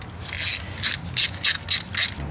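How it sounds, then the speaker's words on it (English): A ratchet socket wrench running down 10mm bolts on a Chevy 5.3 Vortec LS engine, about six short rasping clicking strokes in steady rhythm, close and clear with no talk. "Now start running down the 10mm bolts."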